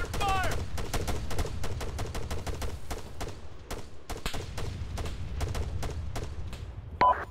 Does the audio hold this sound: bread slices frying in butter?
no